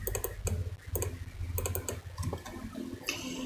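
Rapid clicking keystrokes on a computer keyboard come in irregular bursts, close and fairly quiet, with short pauses between runs of typing and no voices.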